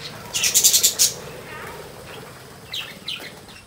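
Lovebirds in a zoo aviary give a quick burst of shrill, chattering calls, then fall quiet before a few fainter chirps come from farther off against steady background hum.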